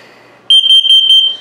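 A propane and gas alarm in a 2021 Airstream Bambi 20FB travel trailer sounding its test signal, a loud, piercing high-pitched electronic beep pulsing rapidly and steadily right up close.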